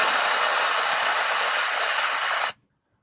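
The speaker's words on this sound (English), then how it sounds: "The steam taps are a joystick style, which means that you can move it in any direction and it will stick in that direction to be in full" Espresso machine steam wand on a Sanremo Cafe Racer, joystick tap pushed to full blast, gives a loud, steady broadband hiss that holds constant for about two and a half seconds, then cuts off abruptly into silence.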